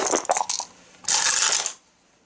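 Three dice rattled and rolled across a table in an Arkham Horror third edition game: a short clattering shake, then a brighter tumbling rattle that settles into silence, close and clear with no talking.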